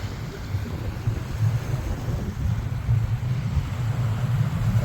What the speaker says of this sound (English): if you hear the rumble in the background, there happens to be an air show going on not too far from here.